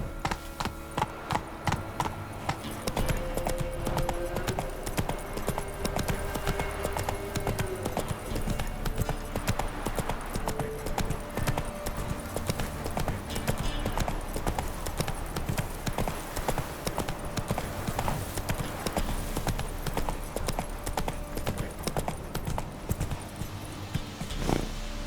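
Horse hooves gallop in a fast, steady clip-clop rhythm throughout in The Witcher 3, loud and close over a constant game soundscape with music, with no break in the pounding.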